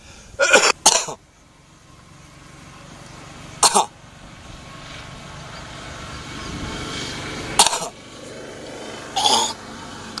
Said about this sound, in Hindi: 2 बार 3 बार खांसी करेंगे